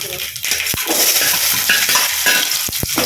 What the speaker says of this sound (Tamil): கடுகு பொழிஞ்சிருச்சு.